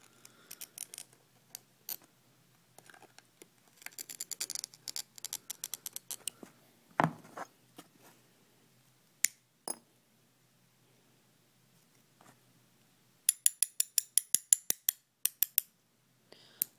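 A glass cutter scores a sheet of glass. There are scattered sharp ticks and clicks, a short scratchy scoring burst, and then a quick run of evenly spaced crisp taps near the end, all close by with almost no talking.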